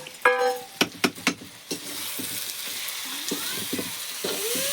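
Garlic and chili sizzle in a hot pan, with several sharp clatters of stirring near the start, then a steady crackling fry with occasional scrapes, close and fairly loud with no talking.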